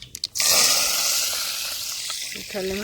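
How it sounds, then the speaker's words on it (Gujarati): Mustard and cumin seeds are tempered in hot oil for a vaghar. After a few light knocks, a sudden loud, close sizzle bursts up and slowly settles into a steady hiss, and a voice begins near the end. "અને હવે તેલ ગરમ થવા મૂક્યું છે. સરસ મજાનો આપણે પહેલાં વઘાર કરશું."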